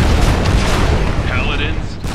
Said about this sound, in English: The UAV bomb should be enough.